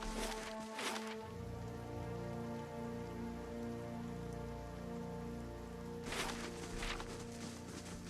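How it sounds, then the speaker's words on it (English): Steady rain falls in the video game Pillars of Eternity, a dense patter on surfaces over a low ambient hum, with brief louder splashy bursts at the start and near the end. "We have to wait for the rain to stop"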